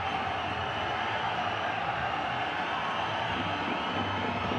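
A basketball arena crowd in a Champions League game reacts with a broad, sustained roar of cheering and noise that stays level throughout, heard at some distance with no clear voice on top.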